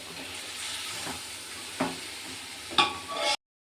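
Soft sizzling of spices tempering in hot oil, close and fairly quiet, with a few sharp clinks and stirring scrapes before the sound cuts off abruptly.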